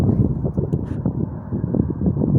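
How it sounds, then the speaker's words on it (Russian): Wind buffets the microphone outdoors beside a solar power station at the foot of a mountain, a loud, low, gusting rumble with uneven surges throughout the short stretch and no voices. "Я думаю, вы слышите ветер, да?"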